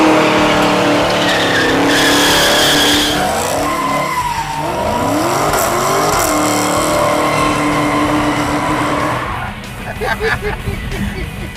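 A 1968 Charger with a 707 HP Hellcat engine does a tire burnout: a loud, sustained roar of revving engine and screeching, skidding tires that wavers in pitch, then eases off near the end, with voices faintly present.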